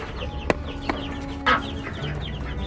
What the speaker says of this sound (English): apparently we have a broody hen